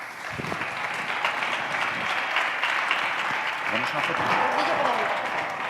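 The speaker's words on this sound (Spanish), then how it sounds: "Un aplauso especial a Miguel Carballal, presidente de la ONCE, Grupo Social ONCE" A crowd at a tourism accessibility event applauds the president of Grupo Social ONCE, sustained dense clapping close by with voices talking over it.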